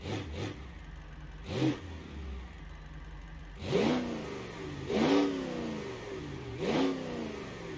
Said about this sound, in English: This thing sounds like a diesel.